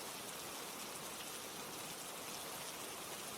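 Steady rain falls without pause, a dense, even hiss of drops pattering on a surface, faint and continuous throughout.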